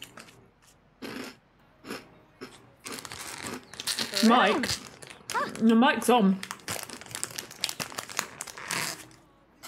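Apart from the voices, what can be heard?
crunching wheat crunchies snack and crinkling packet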